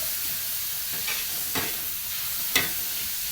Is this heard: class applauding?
no